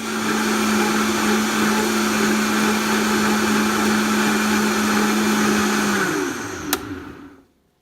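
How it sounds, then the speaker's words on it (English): A blender blending chia pudding whirs at a steady high pitch for about six seconds, then winds down with a click before falling silent. "So that's all I put into my blender, and then I just blend it up."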